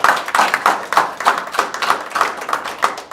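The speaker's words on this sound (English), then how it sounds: "let's give them a round of applause" Steady applause from a small crowd at a board of education meeting, a dense patter of nearby hand claps that continues without pause.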